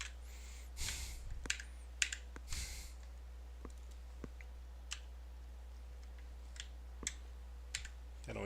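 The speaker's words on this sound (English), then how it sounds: "That only takes like 6 keystrokes on this keyboard." Computer keyboard keystrokes, scattered and crisp, tapped in short irregular bursts with quiet gaps between clicks in a quiet room; no one speaks.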